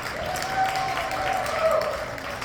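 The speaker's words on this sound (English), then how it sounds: "Give yourselves a round of applause for coming out tonight." Comedy show audience in a brewery clapping for themselves at the opening, a moderate steady patter of applause with a faint tone and possible murmurs mixed in.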